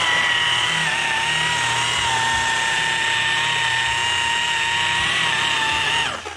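A machine polisher with a black pad runs steadily over car paint, a constant loud high-pitched whine that holds level and then winds down at the end.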